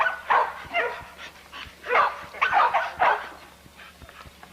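Dogs barking in a kennel yard, several irregular barks and yips at middle distance over a low background hum, with no talking.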